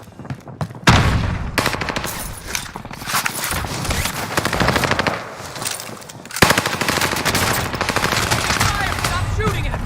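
Gunfire in a video game: loud, rapid bursts of automatic fire stutter almost nonstop, with short pauses between volleys and voices talking underneath.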